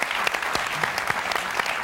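An audience claps steadily at a school-related event, dense overlapping applause with some sharper individual claps standing out, fairly close and continuous throughout.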